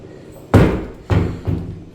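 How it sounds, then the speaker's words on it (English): A glass sliding bathroom door in a 19th-century hotel in Roscommon is moved, giving a heavy thump followed by a second and third softer knock as it rolls and settles, close by. "It's a sliding door."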